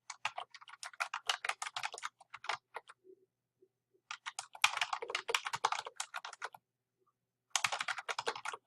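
Computer keyboard typing as a question is entered into an online polling tool: quick, close-up clicking keystrokes in bursts separated by short pauses, with no talking.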